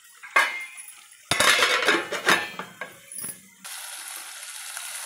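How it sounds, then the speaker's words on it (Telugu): A metal lid clanks down onto a pot of mutton masala curry with a couple of clattering knocks, followed by a steady hiss of simmering and sizzling, close and fairly loud with no talk. "కొద్దిసేపు దీన్ని కూడా ఉడకని వల్ల ఒక 10 మినిట్స్ మూత పెట్టేస్తున్నాను"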